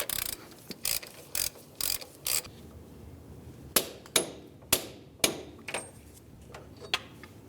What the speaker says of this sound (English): You can use a ratchet and your 32mm socket, snug it up, and then we're going to torque it.